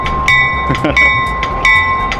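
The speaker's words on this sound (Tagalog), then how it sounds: "See the metro right there?" A metro train rumbles past close by, with steady tonal hums and repeated rhythmic bursts of clatter from the cars.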